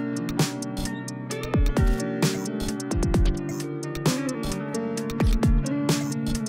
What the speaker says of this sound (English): So this is what just the guitar and the drums sound like.